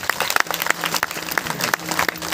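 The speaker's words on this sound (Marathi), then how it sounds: "टाळ्या वाजवा." Audience clapping at a bhandara religious gathering, dense and continuous, with sharp individual claps standing out over a steady wash of applause, loud and close.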